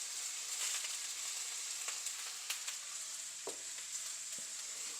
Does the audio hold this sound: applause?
no